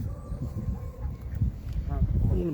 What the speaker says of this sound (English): Come on, geese.